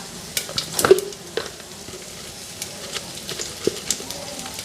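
Cumin seeds and dried red chillies spit and crackle in hot oil for a dal tempering, with a soft sizzle bed, sharp pops and scraping stirs close by, and no voices.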